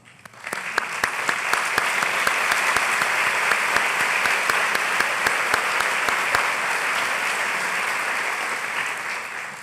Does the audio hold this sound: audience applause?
yes